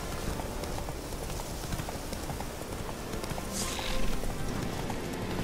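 Horse hooves pounding at a gallop in The Witcher 3, a fast continuous clip-clop under a wash of game ambience, steady and fairly close, briefly swelling louder near the end, with no talking.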